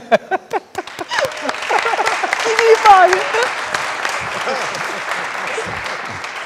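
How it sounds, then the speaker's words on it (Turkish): Studio audience at a Turkish television show applauding as a contestant is sent off, scattered sharp claps at first swelling into fuller clapping mixed with voices and cheering, loud and close. "Şimdi alkışlarla Kırmızı Oda'ya Tamay'ı gönderelim."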